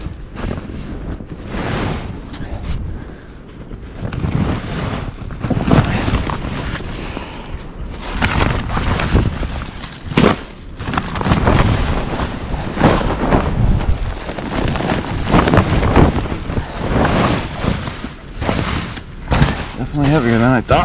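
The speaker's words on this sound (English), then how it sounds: "30-40 mile per hour winds" Strong, gusty winter wind of around 30–40 mph buffets the microphone outdoors near a snow-covered compost pile of shredded leaves, a loud continuous roar with surging gusts throughout.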